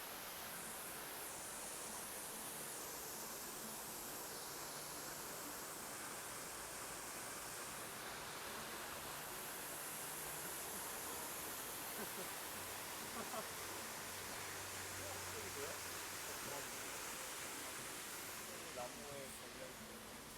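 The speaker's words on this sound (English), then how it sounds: "There's the main waterfall." Main waterfall on Tamborine Mountain heard from nearby as a steady, broadband rush of falling water, constant and fairly loud with no pauses over the whole stretch.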